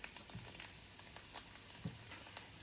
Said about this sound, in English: Saute them for about 2 to 3 minutes until you see their color change or they look dry.